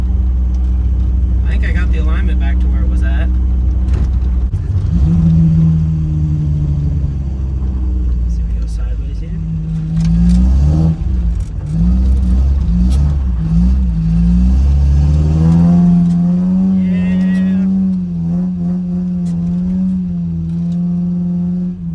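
A Dodge Ram 50 pickup truck in poor condition is driven, its engine giving a loud, steady low rumble that rises and falls with throttle changes, while people talk over it throughout.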